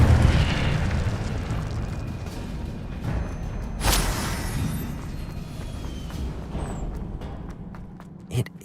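An Incendio fire spell from Hogwarts Legacy bursts with a roaring, rumbling blast that peaks sharply partway through, then trails into a sustained crackling wash before fading.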